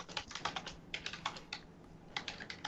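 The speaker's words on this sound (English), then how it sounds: "your typing is so loud" Loud, close clicking of a computer keyboard in rapid bursts of keystrokes with short pauses between them, heard alone with no talking.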